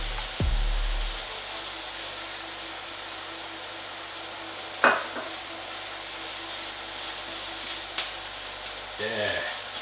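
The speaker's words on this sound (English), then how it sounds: "Here's an egg that I've lightly beaten. What I'm going to do is make a bit of space in the middle of the frying pan." Lightly beaten egg dropped into a hot frying pan alongside cauliflower rice, giving a steady close sizzle with a few scraping stirs and clanks over it.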